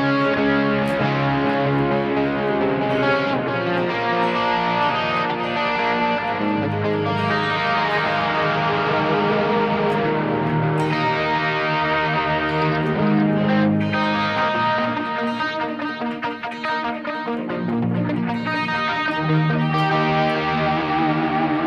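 An electric guitar played through a Boss eBand JS-10 with an 80s heavy metal tone gives heavily distorted, sustained riffs with echo and chorus, loud and continuous for about twenty seconds, with no voice.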